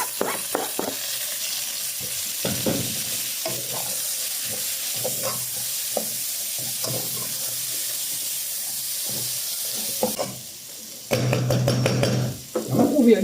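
Frying food sizzles steadily in a pot, with tomato and shellfish added for ti jacques boucané, the hiss continuous and close with occasional stirring clatters, then a louder burst of sizzle near the end.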